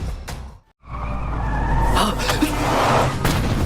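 A car brakes hard and skids with a long tire screech in a movie scene, loud and close, swelling after a brief silent gap and running to the end over a low rumble.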